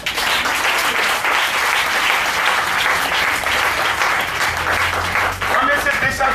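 A church congregation breaks into sustained, dense applause that fills the room, loud and continuous with some voices mixed in.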